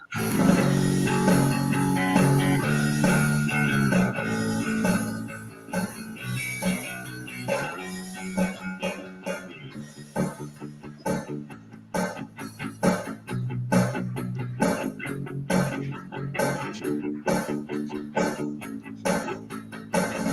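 Bass guitar and drums play a new song together: a sustained opening gives way to punchy, rhythmic drum hits under a driving bass line, recorded at close range with no talking.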